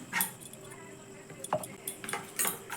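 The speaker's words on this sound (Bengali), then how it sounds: "জলটা অল্প অল্প করে দিতে হবে, দিয়ে খুব ভালো করে মেশাতে হবে।" Spoon scraping and clinking in a bowl as atta flour and water are mixed into a thick batter, with soft irregular knocks close by and a voice speaking faintly underneath.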